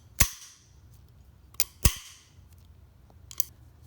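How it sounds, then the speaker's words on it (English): Lightweight brushed-aluminum kayak pack paddle sections snap together in a few crisp, sharp metallic clicks, close and isolated against quiet background, two louder snaps and fainter ones between. "the way it snaps together so crisply"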